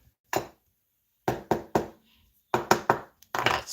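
Seven sharp knocks on a large, extremely hard piece of homemade hardtack, close and dry, arriving singly and in quick clusters with short silences between.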